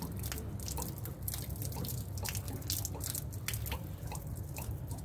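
Water drips down through plumbing during technical repair work, a faint series of irregular wet drips and splats against a low background.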